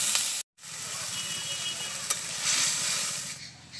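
Water poured into chili powder, turmeric and chilies frying in oil for a rural winter khesari greens dish: a strong hissing sizzle with steady stirring, cut by a brief silence early on, then surging louder before easing.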